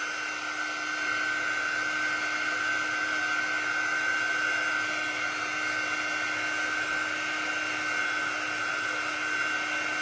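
A hand-held dryer blows steadily to dry paint around a letter on a pumpkin craft, a close, continuous whirring hiss lasting throughout with no talk.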